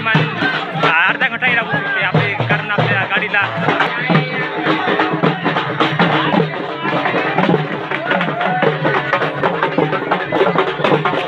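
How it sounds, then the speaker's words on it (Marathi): Dense crowd hubbub at the Shikhar Shingnapur Kavad Yatra fair in Maharashtra, many voices overlapping continuously with someone talking close over the busy background. "बघितलं तर खूप आहे जत्रा बघितलं तर खूप गर्दी आहे"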